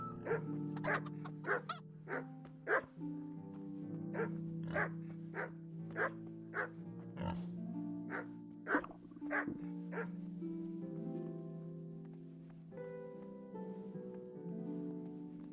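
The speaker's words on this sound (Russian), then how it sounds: "я прям возле собаки прохожу" A dog in the video game Kingdom Come: Deliverance barks in a steady series of sharp, evenly spaced yips over about ten seconds, then quiets, set against a droning background of game music.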